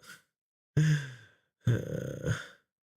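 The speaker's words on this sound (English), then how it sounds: "Excuse my heavy breathing if you can hear it." A sick person breathes heavily in three separate breaths: a short faint one, then two louder, rougher exhalations close to the listener, with short silences between them.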